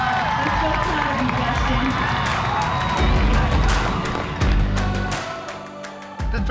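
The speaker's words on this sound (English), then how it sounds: "Please give him a very large round of applause." Graduation audience applauding and cheering, with clapping, whoops and shouts from a lively crowd mixed with talking voices, and bursts of movement and thumps throughout.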